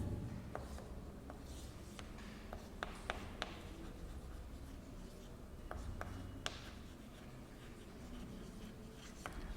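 Pen writing out a trigonometry proof for Class 11 maths, the nib scratching and tapping across paper in short strokes over steady low room noise, with no talk.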